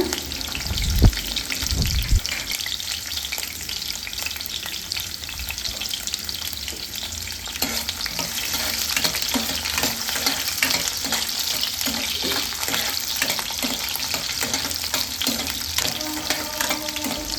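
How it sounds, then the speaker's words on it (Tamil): Garlic and small onions fry in a pan with a steady crackling sizzle, broken by occasional stirring clatter and scraping, continuous and close throughout. "ஒரு 5 பல் பூண்டை சேர்த்து இது கூடவே நல்லா வதக்கிக்கோங்க"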